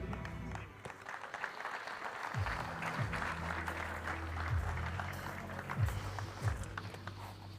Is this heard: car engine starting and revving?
no